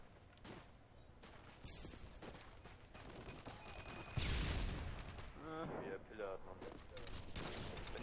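Rapid bursts of video game gunfire crackle in a modern shooter, with a heavy blast about halfway through followed by more rattling shots and fluttering effects; someone talks over the action.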